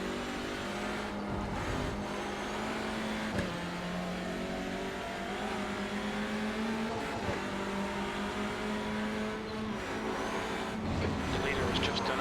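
Race car engine in the iRacing simulator, a loud steady drone that rises and falls through gear changes and braking, with a commentator talking over it throughout.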